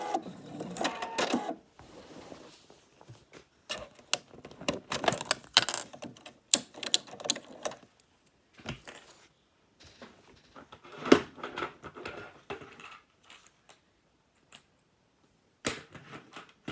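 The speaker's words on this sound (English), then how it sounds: "so let's change the bobbin" Bobbin being changed on a sewing machine: a run of small clicks, taps and rattles, close and quiet, in irregular bursts separated by silent pauses.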